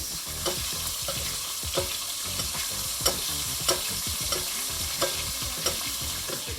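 Chicken piccata browning in butter in a pan, a steady close sizzle punctuated by regular utensil scrapes and taps roughly every half second, with no talking.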